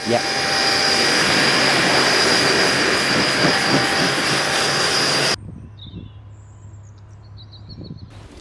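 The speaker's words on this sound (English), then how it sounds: "Left it a couple of minutes, time to rinse it." Water spraying over a 20-year-old Volkswagen Golf R32 during a wash, a loud steady hiss of rinse water for about five seconds that cuts off abruptly, leaving a quiet background hum.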